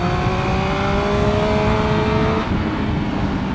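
A Triumph Speed Triple RS motorcycle engine pulls hard on a race circuit, its rising whine climbing steadily in pitch before easing off after a couple of seconds, loud and close with wind noise underneath.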